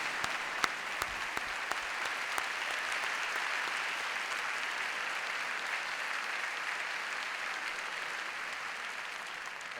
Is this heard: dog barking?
no